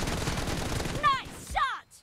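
Gunfire from an M4 rifle in a PUBG Mobile one-on-one team deathmatch, loud bursts of shots running through the first second, then two sharper distinct shots with a short gap, ending abruptly in near silence.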